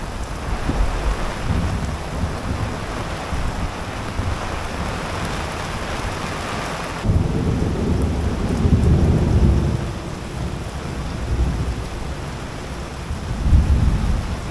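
A thunderstorm pours heavy rain in a continuous loud roar, with deep rumbles of thunder swelling partway through and again near the end, and no voices.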